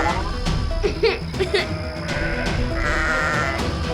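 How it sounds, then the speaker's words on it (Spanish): Frightened sheep in a farm pen bleat in a cartoon, several wavering cries over a busy, loud bed of music and effects. "las ovejas en el corral se asustaron mucho"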